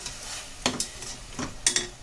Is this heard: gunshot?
no